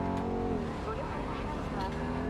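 A car in the video game Cyberpunk 2077 drives along with a steady, droning engine hum and slight pitch shifts, heard up close, with someone talking over it.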